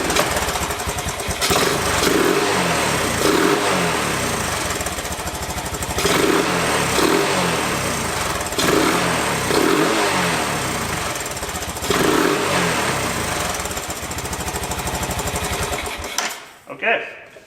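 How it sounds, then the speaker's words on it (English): Engine of an old, once-abandoned Honda three-wheeler, just revived after a carburetor repair, revving hard and loud in repeated rising and falling surges, then cutting off abruptly near the end. "What we're looking for is a good clean rev, and hopefully no popping when it's decelerating back down to idle."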